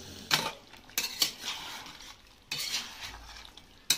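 Chicken and potatoes being stirred in a cooking pan for curry, a spoon scraping and clanking against the metal in a few distinct loud strokes with quieter sizzling between them.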